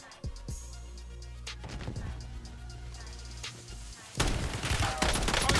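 Gunfire rattles through a video game battle: scattered single shots, then a denser burst of rapid fire that grows louder toward the end, with no talk.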